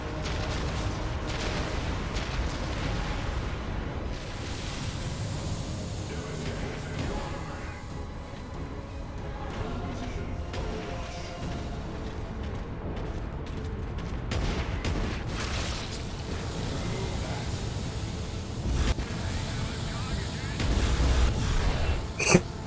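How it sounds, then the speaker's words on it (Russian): Meltagun shots fire in a video game as a string of heavy, rumbling blasts and booms spread over about twenty seconds, building to louder bursts near the end. "12 выстрелов Мельтагана"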